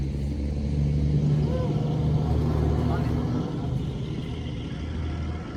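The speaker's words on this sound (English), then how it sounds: "I'll wait for the truck to go by." A truck passes on a road near an open field, a steady low engine rumble holding loud through the clip and easing slightly toward the end.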